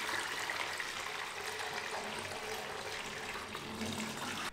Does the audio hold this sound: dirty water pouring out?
yes